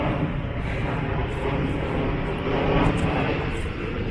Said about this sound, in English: All the aeroplanes coming over.